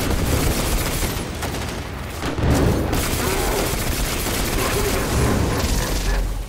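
Gunfire and a grenade explosion in Destiny 2, a loud, steady barrage of shots with a heavier booming swell a little before the midpoint, continuing busily to the end.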